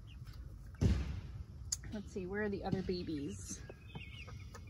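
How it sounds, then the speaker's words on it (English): A white hen that lays white eggs clucks in short, close bursts while a person talks over her, with a soft thump near the start. "She is one of our egg-laying hens."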